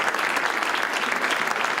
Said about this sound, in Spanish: Todos ellos han recibido a Felipe VI con un sonoro aplauso.